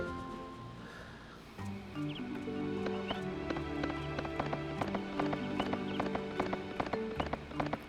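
Horse hooves clip-clop in steady, even beats in the video game Suikoden III, layered over sustained background music with a brief whinny-like tone early on.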